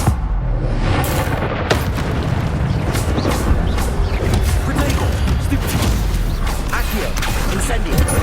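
Incendio fire spell cast repeatedly in Hogwarts Legacy combat, a loud continuous roaring burst of flame and rumbling booms, dense and sustained with crackling impacts layered throughout.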